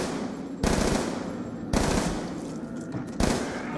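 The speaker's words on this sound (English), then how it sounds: "I can shoot this guy" Gunfire at a zombie in Black Ops 2 Zombies comes as three loud, close shots or short bursts spaced about a second apart, each a sharp blast trailing into a brief ringing decay.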